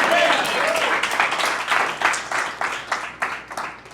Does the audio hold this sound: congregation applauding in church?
yes